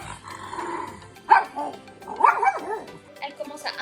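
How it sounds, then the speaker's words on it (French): A dog barks and growls at a household appliance indoors, giving a few sharp, close yaps in two or three bursts against a quiet room with faint background hum. "Elle commence à aboyer dessus pour attaquer l'appareil."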